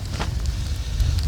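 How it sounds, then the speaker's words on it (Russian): Wind blowing outdoors on a breezy day at a rural farmstead, a steady low rumbling gust buffeting the microphone with faint rustling on top, no voices. "Погода сегодня, да, такая чуть-чуть ветреная"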